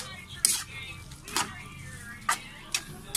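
Food being mixed with oyster sauce in a pan, a few separate scraping clatters of a utensil against the pan with quiet gaps between, spaced irregularly.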